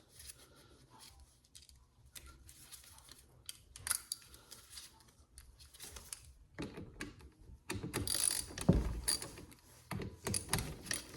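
Ratchet wrench loosening the 8 mm carburetor nuts on a Poulan Pro PPB3416 leaf blower, a run of quiet close clicks and scrapes at first, then louder rattling metal handling toward the end.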